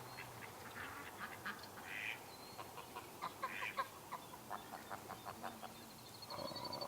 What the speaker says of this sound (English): wild duck